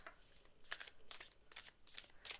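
Tarot cards being shuffled by hand in a loose, messy shuffle, close and soft, with a series of quick riffling bursts spaced out in an uneven rhythm.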